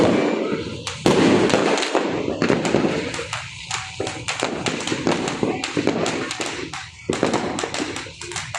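New Year's Eve fireworks crackle and bang repeatedly, a dense rapid barrage of sharp pops and booms with voices faintly mixed in underneath.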